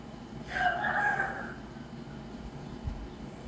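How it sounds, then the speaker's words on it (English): A rooster crows once at middle distance in the Middle East, a short, fairly faint call over steady background noise, followed by quiet. "the rooster's name is Kevin, apparently, or KFC Kevin"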